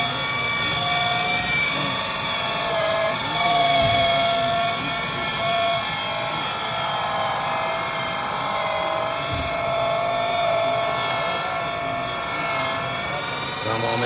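A car paint polishing machine sanding and buffing a panel whines steadily as its speed is raised, a loud continuous high-pitched drone with shifting tones and no pauses across the whole stretch.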